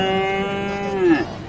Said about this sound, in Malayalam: ഷാഹുൽ അമീദ് ഖാന്റെ പശുക്കളാണ് കേട്ടോ അത്.